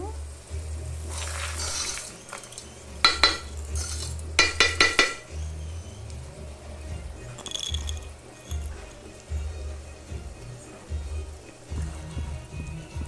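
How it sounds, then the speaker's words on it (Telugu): Toor dal is stirred in a pan, with scraping and clinking of a spoon against metal, a few sharp taps in quick bursts, and soft frying background throughout. "కందిపప్పు అయితే వేసేసుకున్నా, బాగా మిక్స్ చేసుకున్నాను."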